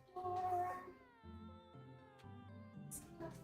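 A house cat meows loudly and close at first, followed by softer, longer tonal meows and a faint chirp near the end.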